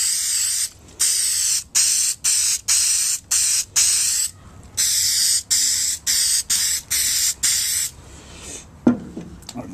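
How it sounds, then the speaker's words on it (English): Short, loud bursts of aerosol spray glue hiss onto spray foam held by a hemostat, in a rhythmic series of pumps, then stop, followed by a faint clatter. "I'm going to coat the spray foam in glue."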